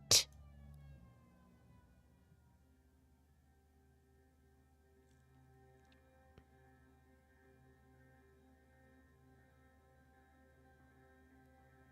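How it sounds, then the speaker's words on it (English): In the video game Suzerain, a sudden loud hit gives way to a police siren's sustained, fairly quiet electronic tone that holds steady throughout, with one brief click midway. "Suddenly I heard a siren blaring from behind me."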